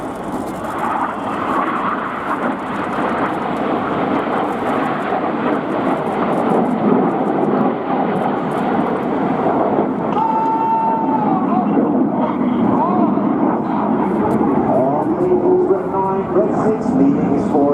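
Red Arrows jet aircraft flying an air display, their engines a loud continuous roar throughout with a commentator talking over it.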